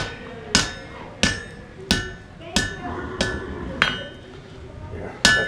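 A hammer strikes a one-edge bowie knife blade on an anvil at a forge, nine sharp ringing blows at an even, unhurried pace, close and loud, with brief metallic ring after each hit.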